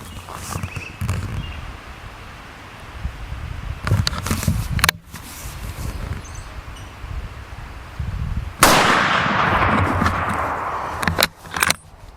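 Outdoor shots from a Winchester Model 70 rifle in .270 at a sighting-in session, a few sharp, loud reports spaced seconds apart, each trailing off quickly amid wind and handling noise.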